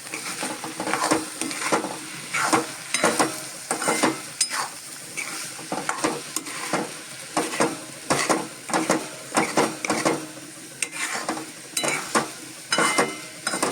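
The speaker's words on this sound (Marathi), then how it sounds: "आणि आता पुन्हा हे व्यवस्थित आपल्याला मिक्स करून घ्यायचंय" A spoon stirs fenugreek leaves with freshly grated coconut in a pan for a Konkan-style dry stir-fry, making close, steady, rhythmic scraping strokes that repeat throughout with no talking.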